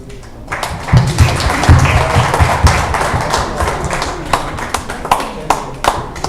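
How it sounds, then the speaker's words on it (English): An audience applauds graduates walking up to receive awards at a graduation ceremony. Dense, loud clapping builds quickly and keeps going with low thumps and a faint crowd murmur. "Please give them a round"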